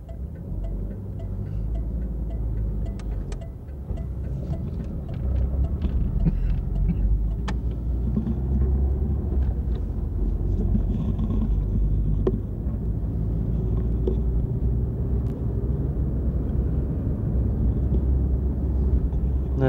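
An army motor pool at Fort Dix, New Jersey, with trucks and Jeeps, gives a steady low rumble of vehicles and engine noise mixed with wind buffeting the microphone, plus a few faint clanks, without voices.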